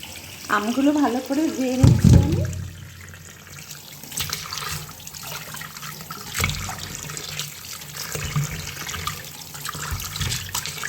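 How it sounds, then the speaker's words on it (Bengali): Raw mangoes washed under a running kitchen tap: a steady gush of water splashing over the fruit, with sloshing and handling noises, and a short tonal, voice-like passage near the start. "প্রথমে আমি আমগুলোকে ভালো করে ধুয়ে নেব"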